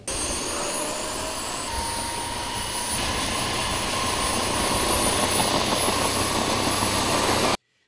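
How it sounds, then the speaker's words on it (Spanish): A loud, continuous roar of two military helicopters' engines and rotor wash fills the air overhead during an aerial display, steady and unbroken before cutting off abruptly. "Dos helicópteros de la Fuerza Armada y su tripulación hicieron destrezas ante los asistentes"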